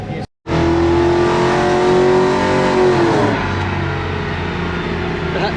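A Toyota 1UZ V8 in a Zephyr running a Haltech 2500 Elite ECU revs hard on a dyno, a loud sustained climbing wail that holds, then drops off as the throttle backs off.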